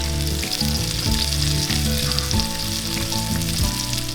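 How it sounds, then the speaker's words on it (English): Meat sears in a hot pan with a loud, steady, close sizzle that crackles continuously throughout, heard alone without talk. "I'm going to finish searing these other two that I have over here"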